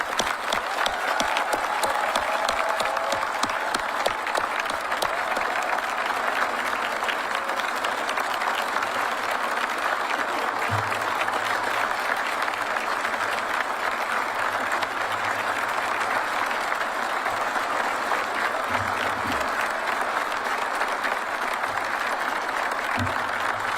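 Sustained applause from a large audience at a U.S. Air Force Test Pilot School graduation ceremony, steady and dense throughout with no talking, clapping continuing for the whole stretch.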